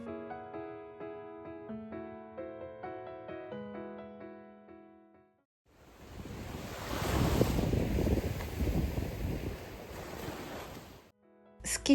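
Sea waves washing onto a quiet beach in Busan, a broad surging rush with wind noise that builds loud and then fades, following several seconds of soft background music.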